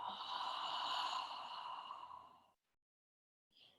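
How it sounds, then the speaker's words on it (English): A deep breath drawn and let out through an open mouth, a long, close, airy exhale lasting a couple of seconds, then silence and a short faint breath at the end. "I will breathe with my mouth open, like a nice deep ha breath."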